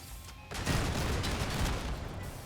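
Artillery explosions in a video game roll out as a dense, continuous barrage of blasts and rumbling impacts, loud and sustained after a brief quieter start, with no talking.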